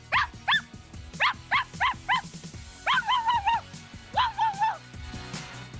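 A puppy in a Barbie video game gives bursts of high, yippy barks in quick clusters of two to four, close and clear over faint game background sound.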